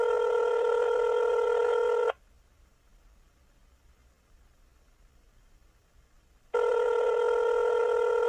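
A telephone rings loudly and close by in two long electronic bursts separated by a few seconds of near silence.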